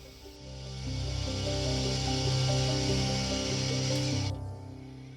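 A milling machine drills a hole through a brass-style cylinder cock body for a live steam locomotive, a steady tonal machining whine with grinding texture that swells, holds for a few seconds, then cuts off sharply.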